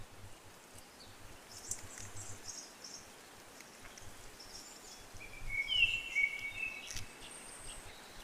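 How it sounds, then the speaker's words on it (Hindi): Quiet forest on Parasnath hill with sparse birds chirping high and thin in the distance, a few brief calls and a longer trill late on, over a soft steady insect hum and faint leaf rustle, no talk. "चिड़ियों की चहचहाने की आवाज़ें"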